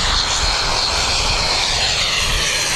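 A Dash 8 turboprop at Wellington Airport drones loudly and continuously, a dense roaring engine and propeller noise that holds steady and close throughout.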